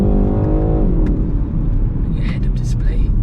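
A 2021 BMW 128ti pulls hard in second gear, its engine note climbing in pitch and then easing into a loud, rumbling drone close by, with someone talking over it.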